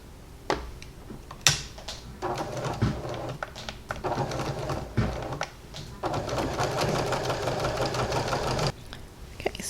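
A sewing machine stitches a fleece hat seam in steady whirring runs, stopping and starting several times with brief pauses between bursts, close and clear with no talk over it.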